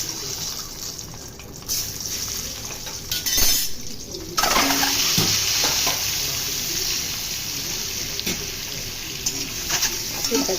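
Eggs fry in a hot oiled pan for Indian-style egg rice, giving a steady, close sizzle that runs throughout with occasional stirring scrapes, and no talking over it.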